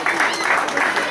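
A short burst of steady applause from a crowd, clapping filling the whole moment without pause.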